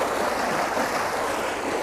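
Creek water pouring into a spillway: steady, broad rushing and splashing that holds a constant level throughout, close and with no voices.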